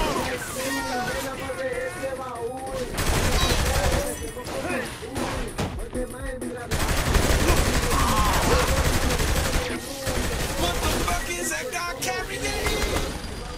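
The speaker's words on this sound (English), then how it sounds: "Minigun, up above!" A minigun fires in rapid sustained bursts during a chaotic firefight in the video game Saints Row III, heard with other gunfire, thuds and shouted voices and game dialogue over the top.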